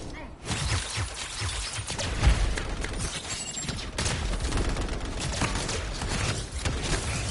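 Sustained turret gunfire and combat noise at an outlaw camp in the Anthem video game, a dense continuous barrage of loud bursts, booms and mechanical clatter with a few sharper impacts.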